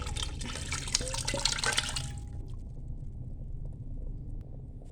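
Blood for Kapampangan dinuguan stew is poured into a pot, a bright liquid splash for about two seconds that stops abruptly, leaving a quiet room hum.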